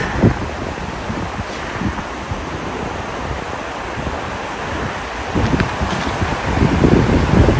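Steady outdoor wind in Andorra rushes and buffets the microphone, a continuous broadband roar that swells louder toward the end.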